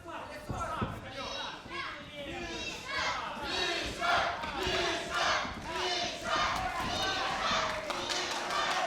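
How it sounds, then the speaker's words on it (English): A crowd at a wrestling fight between Mihail Sirbu and Evgeniy Odnorog shrieks and yells in repeated emotional surges, loud and continuous with overlapping voices. "a shriek of emotion comes from this crowd"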